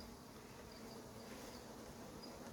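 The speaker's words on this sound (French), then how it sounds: "Une guêpe qui a capturé un bout d'abeille." Wasps and bees buzz around a beehive at an apiary, a faint, steady insect drone that continues without pause and has no voices over it.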